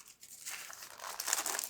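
Plastic packaging around a RoyalAXE R100 keyboard crinkles during unboxing, a close, quiet burst of rustling and crackling that builds after a brief pause, with no voices.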